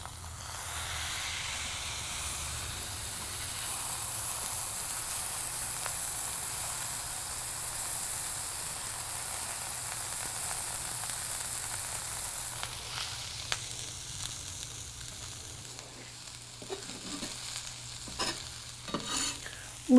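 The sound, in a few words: ground pork belly sizzling and smashed on iron grate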